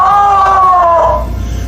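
Homemade string and cup noisemaker gadget giving a loud, squealing, wailing tone that slides slightly downward, then fades into a low rumble.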